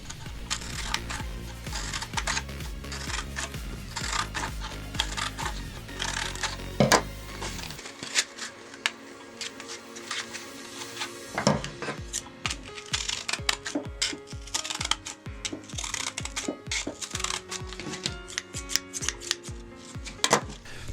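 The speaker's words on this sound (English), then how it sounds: "to keep your scissors all nice and sharp, just cut through some sandpaper" Scissors snip repeatedly through sandpaper to sharpen their blades in a workshop, crisp close cutting crunches in a quick irregular rhythm, with a brief quieter pause partway through.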